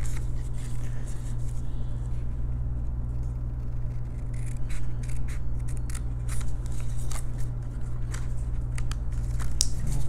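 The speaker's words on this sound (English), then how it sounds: "Cut out that triangle, and then we'll do the same on the other side." Scissors snip through a paper triangle for a scrapbook double-page layout, with close, steady crisp cuts over a constant low hum throughout.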